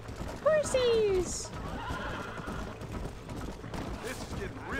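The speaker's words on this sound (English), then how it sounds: "Horses!" A horse in the Western video game Red Dead Redemption gives a loud, close whinny that falls in pitch, with hoofbeats and gunfire-like action underneath. Players talk excitedly over the game sounds.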